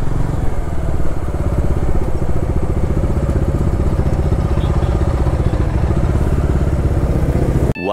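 A motorcycle engine runs loud and steady close by during a ride, with a constant throbbing drone and wind rumble that cuts off abruptly at the end.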